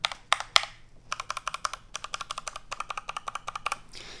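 Fingers type on a mechanical keyboard fitted with silent switches, a quick irregular stream of soft, close keystroke clicks in several bursts with short pauses between them, ending in a brief rustle.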